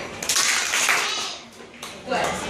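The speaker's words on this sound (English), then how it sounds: "just give them 2 claps" Children at a school award ceremony for Florida Gators KIPP Infinity practice a short burst of applause, a brief spatter of hand claps that swells and fades over about two seconds, with scattered young voices mixed in.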